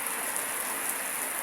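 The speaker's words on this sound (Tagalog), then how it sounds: "Sobrang lakas po ng hangin tsaka yung ulan. Yan po, naririnig niyo naman po." Steady, dense hiss of heavy rain pouring down in strong wind over farmland, without pause, a constant broadband roar with no voices present.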